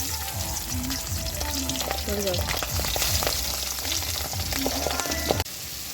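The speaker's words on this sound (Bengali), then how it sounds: "কড়াইতে তেল দিয়ে পাবদা মাছগুলোকে ভেজে নিচ্ছি" Pabda fish fry in hot oil in a wok, with a loud continuous sputtering sizzle, frequent crackles and the occasional scrape of stirring close by.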